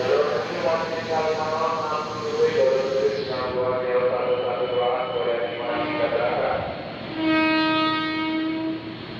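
A commuter electric train (KRL) bound for Bogor pulls away from Manggarai Station at rush hour with a long horn blast and rumbling, while a voice talks over the noise.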